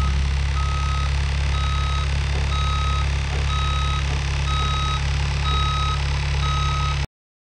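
A skid steer sits running with a steady low engine drone while its reversing alarm beeps in a regular, evenly spaced rhythm, about a dozen tones, loud and close, until the sound cuts off abruptly.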